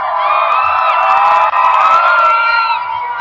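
A huge crowd of hundreds of thousands cheers at Barack Obama's presidential inauguration, a loud, continuous roar of voices and whoops that stays strong throughout, with a brief dip just past the middle.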